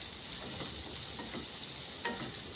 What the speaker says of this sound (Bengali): পেঁয়াজটাকে এবারে গোল্ডেন কালার করে ফ্রাই করে নেব